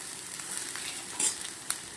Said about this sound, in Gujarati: હવે આપણે આને સરસ સાંતળી લેવાનું છે